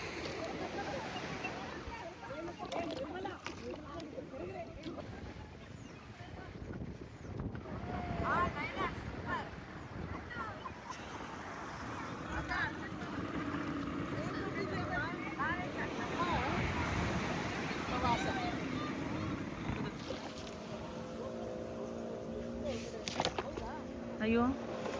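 A boat ride on the sea at Gokarna, with steady engine drone, rushing water and buffeting wind on the microphone throughout, and voices talking intermittently over the noise.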